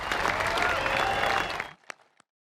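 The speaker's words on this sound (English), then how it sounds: "let's give them a round of applause" A crowd at a 1,000-shooter Henry rifle shoot applauds loudly and steadily, then the clapping cuts off abruptly, leaving a few scattered, isolated claps.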